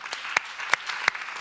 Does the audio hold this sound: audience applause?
yes